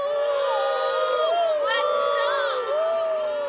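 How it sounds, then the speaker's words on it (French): Cartoon crowd cheering in a My Little Pony scene, a dense mix of excited overlapping voices whooping and calling out, steady and loud throughout with no distinct clapping. "Qui ose applaudir et dire bravo à ce spectacle lamentable?"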